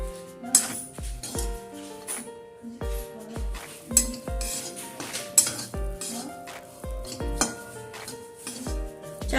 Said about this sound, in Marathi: मीडियम गॅसवरती आपण हुरडा भाजून घेऊया।